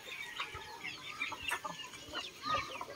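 Roosters and chickens cluck softly at a rural home during afternoon feeding, with a scatter of short, faint clucks and chirps that continue throughout at a distance.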